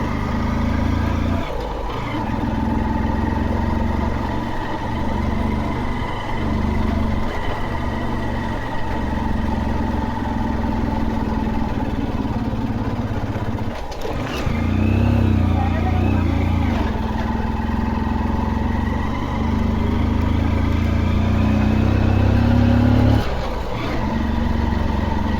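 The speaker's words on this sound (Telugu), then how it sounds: "చూసారు బైక్ సౌండ్ ఎలాగ వస్తుందో." A motorcycle rides a winding mountain road near the Adali viewpoint in Seetampeta, its engine droning steadily and loud throughout, with a voice talking over it.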